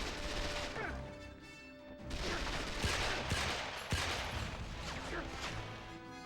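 Gunfire and crashing impacts in the PS2 game 007: Quantum of Solace, with repeated sharp shots and smashing debris over a busy, continuous game soundscape.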